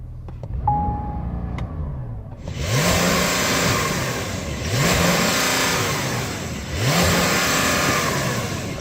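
A Porsche 911 at a drag race start line, its engine blipped after a couple of faint clicks and then revved in three loud repeated surges, each rising and falling close by, with no talk over it.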